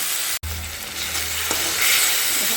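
Ginger, garlic and green chillies sizzling in hot oil while being stirred in a pan, a close, continuous fry hiss with a scrape of the spatula and a brief break early on.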